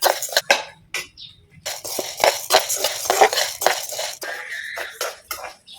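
Urad dal roasting with a little oil in a heavy-bottomed pan, rapid clinks and scrapes of a spoon against metal in irregular bursts, close and fairly loud with no voices.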